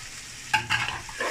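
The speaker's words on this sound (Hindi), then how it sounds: "हम इसमें चिकन ऐड कर देंगे।" Raw chicken going into a pan of sautéed garlic, a sudden burst of sizzling and stirring that flares up then settles into steady frying crackle, close and fairly loud with no talking.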